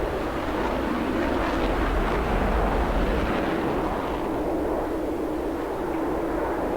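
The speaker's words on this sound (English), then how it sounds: "what was that your missile just going near him" A missile launches and explodes in a video game, a loud, dense, sustained roaring rush of noise that swells early and then holds steady without any talk over it.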